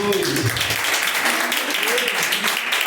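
A church congregation claps for Jesus during a service, a ragged spread of hands under a preacher's voice speaking over it.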